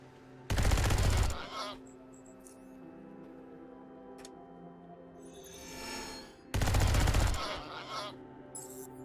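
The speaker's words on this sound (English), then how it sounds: "So they probably heard the gunfire" Automatic gunfire from the Underrail video game, in two loud, sustained bursts about six seconds apart, with quieter game sounds in between.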